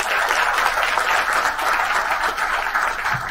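An awards-night audience applauds steadily, a dense wash of many hands clapping at a constant level throughout, close and loud.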